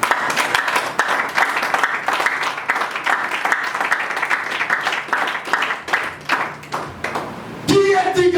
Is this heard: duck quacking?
no